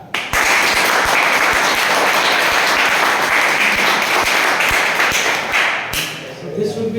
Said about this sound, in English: So can we clap like that?